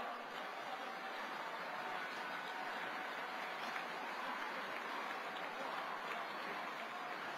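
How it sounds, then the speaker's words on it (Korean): A large hall of party delegates at a Grand National Party leadership convention fills with steady, sustained applause, a dense even wash of clapping that holds at one level throughout without any voices rising above it. "여러분 큰 박수 부탁드리겠습니다"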